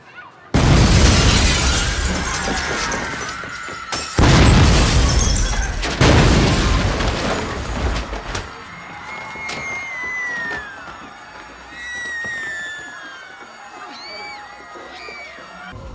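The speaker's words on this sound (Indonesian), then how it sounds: "sebuah serangan bom bunuh diri terjadi di sebuah supermarket di kota Kansas" Bomb blast from a film depicting a suicide bombing in a supermarket in Kansas City: two loud, sustained explosive roars with shattering debris, then a quieter aftermath of ringing, sirens or alarms and distant commotion.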